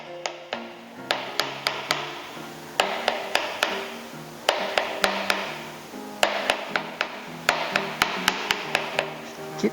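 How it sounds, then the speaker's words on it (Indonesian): A knife coarsely chopping ingredients for concasse on a cutting board, sharp close taps in quick bursts of several strokes with short pauses between, over faint background music. "kemudian setelah seperti ini kita cincang kasar"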